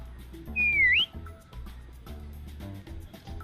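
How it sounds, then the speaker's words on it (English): A person gives a single rising-and-falling approving whistle, short and clear, over a soft steady background of low hum and faint clicks. "X gives an approving whistle."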